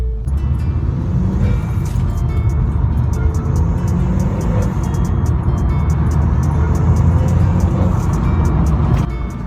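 A Vauxhall VXR fitted with a stage 1 induction kit, heard from inside while driving as a loud continuous engine and road drone with steady rumble and faint ticking throughout.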